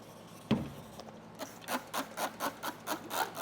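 Rhythmic rubbing strokes of wet sanding on failing, peeling plastic automotive trim, about eight steady back-and-forth passes after a single knock, close and fairly quiet.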